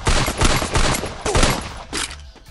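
Rapid bursts of gunfire fill a Free Fire match, loud close shots crackling in quick automatic volleys with brief gaps between them.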